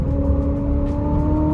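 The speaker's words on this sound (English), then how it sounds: "When you hear those turbos just charge up, it's incredible" A 2024 McLaren 750S Spider's turbocharged engine drones steadily at close range with a rising turbo whine as it accelerates in third gear, a continuous rumble without pause.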